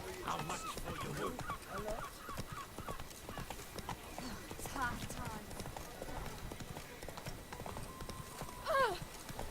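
Roach the horse in The Witcher 3: Blood and Wine gallops off-road with rhythmic hoofbeats running under a person talking, plus occasional short honking or whinny-like calls.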